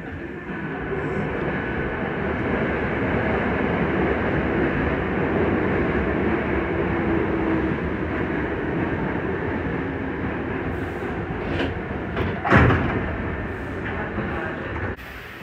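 Hankyu Senri Line train running between Suita and Kunijima, a continuous loud interior rumble of wheels and motors, with a sharp clatter near the end and a recorded announcement under the noise.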